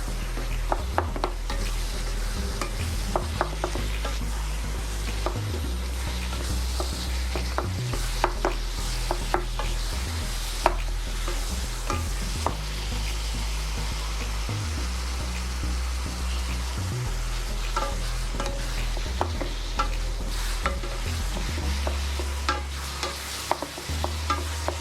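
Samosa filling dry-fried without oil in a non-stick pan, a continuous close sizzle with scraping stir strokes and light ticking spatters running steadily throughout.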